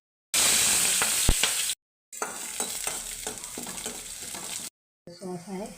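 Cauliflower for gobi manchurian fries in a pan, with loud, close sizzling and scraping spoon stirs across several short cuts, and a voice at the very end.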